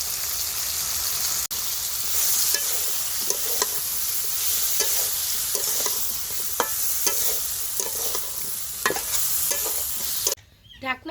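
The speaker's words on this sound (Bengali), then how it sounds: "ঢাকনা দিয়ে ঢেকে ফুলকপিটাকে ভালোভাবে কষিয়ে নিব।" Cut cauliflower frying in spiced oil in a pan: a steady close sizzle with repeated scraping stirs of a spoon at an uneven rhythm, no talking.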